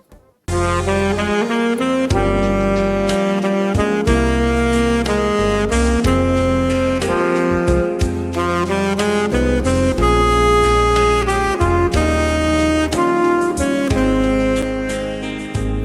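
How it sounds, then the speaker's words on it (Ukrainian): A saxophone plays a lively melody over a full band with steady bass and drums, loud and continuous throughout. "Послухайте, як звучить саксофон."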